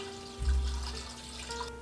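Water pours into a pot over a whole chicken for soup, a brief soft splashing gush heard close and alone, with no talk.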